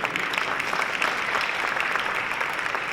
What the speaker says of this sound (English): let's have a big round of applause for the panel here